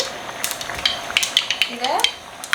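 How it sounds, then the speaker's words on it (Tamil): Mustard seeds splutter in hot oil for a stingray fish curry, a run of sharp scattered pops and crackles over a faint sizzle, with a brief clink of utensil. "கடுகு பொட்டியாச்சு."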